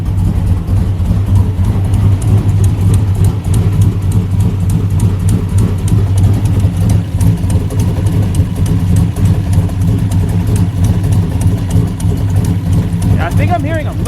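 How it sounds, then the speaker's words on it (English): A junkyard Buick Skylark engine idles steadily at about 800 RPM with a low, even rumble and faint rapid lifter ticking throughout, close by; a voice speaks briefly near the end. "Idling about 800 RPM."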